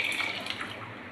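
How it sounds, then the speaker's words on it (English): Fresh milk pours into reducing masala chai in a pot after the flame is switched off, a soft continuous liquid trickle, fairly quiet and close, with no speech. "add 500 mils of fresh milk"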